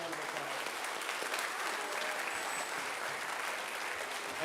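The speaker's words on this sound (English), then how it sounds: "Let's give them a round of applause." An audience at a spring school band concert applauds the honor band students, a sustained, even roar of many hands clapping from a crowded hall, with a few faint voices mixed in.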